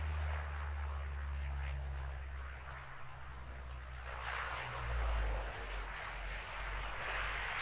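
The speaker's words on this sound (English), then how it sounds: "Such a good noise there from the Dash 8" Dash 8 turboprop airliner landing at Christchurch Airport, New Zealand, a steady loud roar with a deep low drone that swells and fades slightly throughout, heard alone with no voices.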